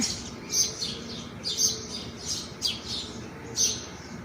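Birds chirping near a farm where a hen and chicks are nearby, with short bright calls repeating roughly every second over a low outdoor background hum, moderately close.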